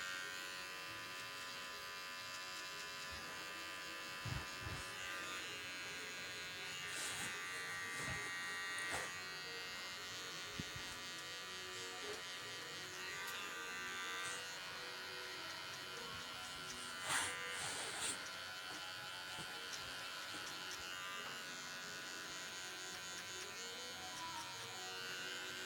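An electric hair clipper buzzes steadily and close during a mid skin fade, a continuous motorized hum with brief louder touches as the blade corner works the hair, with occasional talk underneath.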